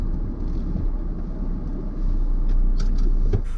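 A car rolls along at low speed with a steady engine rumble and road noise, growing slightly louder before a few brief clunks as it comes to a stop.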